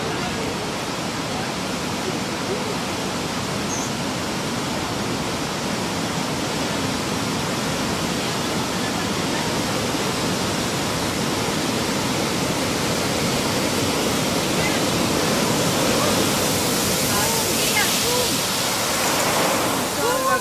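Tsunami floodwater and waves rushing, a loud, unbroken roar of churning water that builds slightly toward the end and fills the whole stretch.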